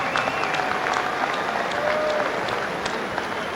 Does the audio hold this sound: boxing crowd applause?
yes